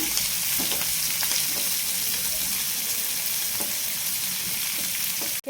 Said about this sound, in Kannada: ಕರಿಬೇವು ಹಾಕೋಣ ನಮಗೆ ಸ್ವಲ್ಪ ಫ್ರೈ ಮಾಡ್ಕೊಳ್ಳೋಣ